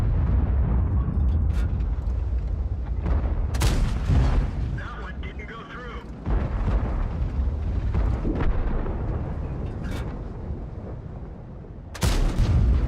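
Tank cannon shots in World of Tanks, an M48A1 Patton in a match, sound as heavy booming blasts with rumbling aftermath, several bursts spaced across the stretch, loud and close over continuous battle noise, with a commentator talking throughout.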